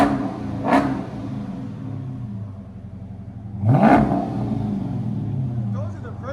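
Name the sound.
2013 Dodge Charger SRT8 6.4L HEMI V8 with Jones mufflers revving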